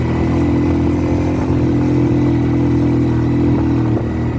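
A manual-gear motorcycle labors up a steep mountain road from Bandung toward Subang via Bukanagara, its engine droning loud and close in a low gear with a steady throbbing hum and no voices over it.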